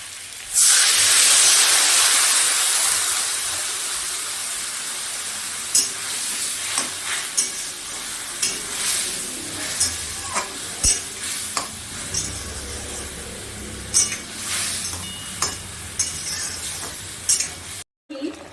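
Water poured into a pan of frying potatoes sets off a loud burst of hissing sizzle that slowly fades to a softer bubbling, broken by regular clinks and scrapes of stirring.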